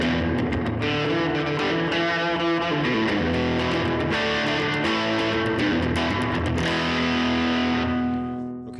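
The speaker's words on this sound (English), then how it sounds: "you're hearing distorted reverb" An electric guitar plays through a distorted reverb on the amp, with a washy, lingering reverb tail, chords ringing loudly and blurring together before fading out.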